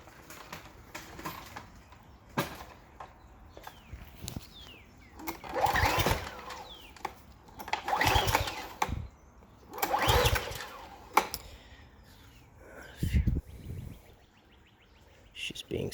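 A Subaru EA190V pressure washer engine is pull-started again and again, each recoil pull giving a short sputtering burst that fails to catch, separated by quieter pauses with faint background noise.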